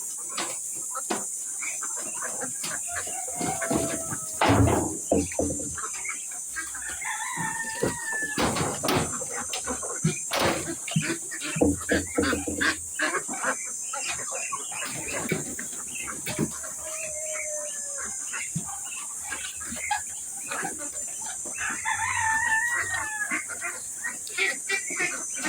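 Pet ducks being fed give scattered nasal quacks amid clattering, knocking and shuffling noises over a steady background hiss.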